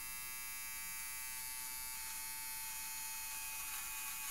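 A cheap electric hair clipper cutting hair, a steady close buzzing drone that runs unbroken throughout at an even level.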